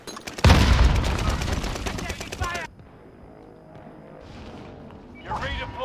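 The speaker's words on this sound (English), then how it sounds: "Throw a frag grenade." A video game firefight: a frag grenade blast and heavy gunfire burst loudly for about two seconds, then cut to quieter game sounds with a few faint shots and a brief late flurry.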